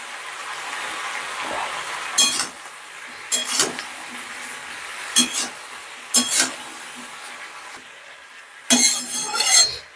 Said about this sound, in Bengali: জিরে গুঁড়ো, হলুদের গুঁড়ো, পরিমাণ মতন লবণ। খুব সুন্দর করে নাড়িয়ে নিচ্ছি।